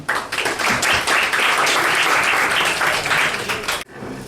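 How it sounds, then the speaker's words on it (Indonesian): Audience applause at a city park design competition event in Bandung, loud and dense clapping sustained for several seconds before cutting off abruptly into quiet room tone. "Mohon tepuk tangannya."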